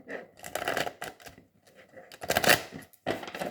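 Oracle cards being shuffled for a reading: close, crisp bursts of riffling and flicking paper, several quick shuffles separated by brief pauses.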